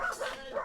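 A dog barks and yips in quick excited bursts, close and fairly loud, with no talk over it.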